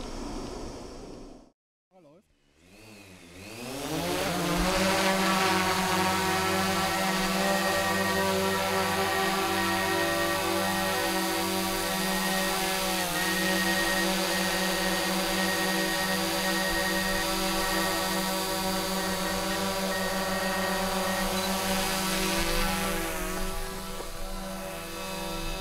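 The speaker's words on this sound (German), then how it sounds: "soll uns Marco mit seiner Drohne Aufnahmen aus der Sicht der Bienenfresser verschaffen." A camera drone's rotors spin up after a brief pause and settle into a steady, high buzzing whine that holds evenly and close for a long stretch.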